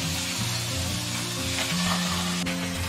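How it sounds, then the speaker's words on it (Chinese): Yellow croaker pan-frying over medium-high heat in hot oil in a smoking-hot preheated pan, giving a steady, close, continuous sizzle throughout with a low tonal hum underneath. "然后我们放入黄花鱼，保持中大火煎"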